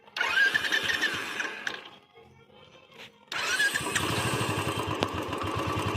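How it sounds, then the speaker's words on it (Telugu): A Royal Enfield motorcycle engine cranks and catches, a brief lull follows, then the single-cylinder settles into a loud, steady thumping idle close by. "మనం వెహికల్ని స్టార్ట్ చేయడం జరిగింది"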